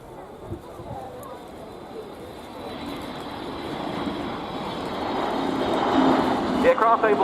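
An air refuelling tanker from the 351st Air Refuelling Squadron flies past at the RIAT 2017 air show, its broad jet roar swelling steadily louder as it approaches, with a commentator talking over it.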